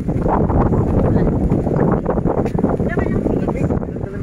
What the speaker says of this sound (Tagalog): Sobrang lakas ng hangin dito at umaambon-ambon pa nga.